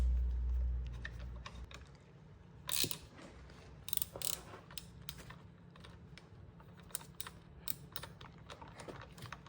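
Ratchet wrench clicking as a 10 mm bolt is snugged down on a bicycle fork, in short irregular bursts of sharp clicks over a low background hum, close and fairly quiet.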